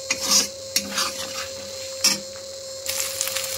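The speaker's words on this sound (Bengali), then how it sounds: "যতক্ষণ না মশলা থেকে তেল বেরোচ্ছে ততক্ষণ কিন্তু এটাকে কষাতে হয়" Chicken masala being stirred and fried in a pan until the oil separates: intermittent scraping bursts of a spoon against the pan over a steady background hum, with no talking.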